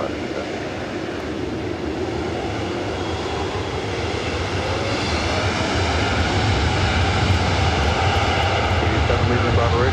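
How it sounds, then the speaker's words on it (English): A heavy Boeing 747 departing LAX gives off a steady, loud jet engine roar that builds slightly over time, with radio voices talking over it. "caution wing turbulence, heavy 747 is departing"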